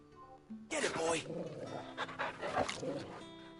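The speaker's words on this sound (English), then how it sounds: "You can pet the dog. He's not a dog, though. He's a wolf." The wolf Torgo from the game Final Fantasy XVI pants loudly and close, with quick breathy bursts over a low game soundtrack.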